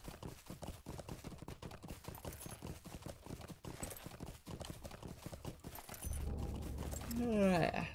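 Steady clip-clop of a horse's hooves in a video game as the rider travels, a regular walking rhythm at moderate level, joined near the end by a louder burst of other game sound.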